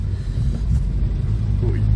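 A 1977 Simca 1100 GLX with an old French gearbox being shifted into second, heard as a steady low engine rumble from inside the car with a faint mechanical clunk, no speech.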